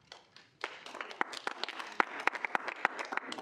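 Scattered applause from a student senate audience after a bill passes, a handful of people clapping unevenly, starting faint and building into irregular sharp claps in a quiet room.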